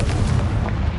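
A Confringo fire-blast spell bursts in Hogwarts Legacy, a loud, dense boom with heavy low rumble sustained through the whole moment, close and forceful with no pause.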